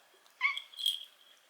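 A pet cat meows close by, two drawn-out mewing calls in quick succession against a quiet indoor background.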